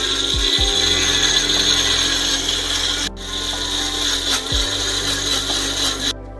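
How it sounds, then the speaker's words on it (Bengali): Coriander leaves, onion, garlic, ginger and chilli ground into a paste for an Uttar Pradesh pea dish, a steady continuous grinding whir throughout with a couple of low thumps, no talking. "এইভাবে বেটে নিতে হবে ধনেপাতা, পেঁয়াজ, রসুন, আদা আর লঙ্কা।"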